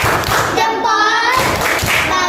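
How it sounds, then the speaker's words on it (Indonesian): Hand clapping from a classroom of pupils praising a group, heard as a few scattered claps and thumps mixed with children's voices and chatter throughout. "untuk itu tepuk tangan, tepuk jempol kelompok 1"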